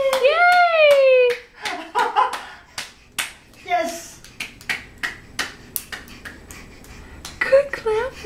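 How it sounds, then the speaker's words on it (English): A small child clapping hands, a series of soft, irregular claps close to the microphone, with an adult's high-pitched cheering voice at the start and end. "Good clapping."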